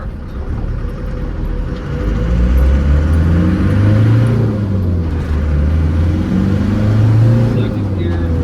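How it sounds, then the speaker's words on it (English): Land Rover Defender 90 300Tdi diesel from 1996 driving, a steady low engine drone rising and falling as it pulls through the gears, loud and close with a brief dip between shifts. "Second gear, third gear, and this 300 TDI runs real good."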